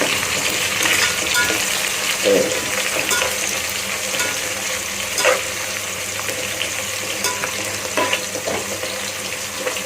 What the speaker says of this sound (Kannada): ಇದು ಕಲರ್ ಬರೋ ಗಂಟೆ ಹುರ್ಕೋಬೇಕು.